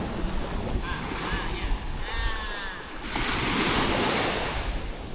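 Sea waves washing ashore at high tide on Payu Bakau beach, a steady surf wash that swells louder in the second half, mixed with wind on the microphone and brief faint talk.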